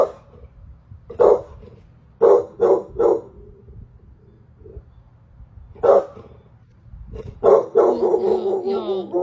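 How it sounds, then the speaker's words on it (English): A dog barks outdoors in a garden, loud bursts of single and doubled barks spread through the stretch and separated by quiet pauses, ending in a longer, more continuous bout of barking and whining. "This dog is standing in the garden barking at seemingly nothing"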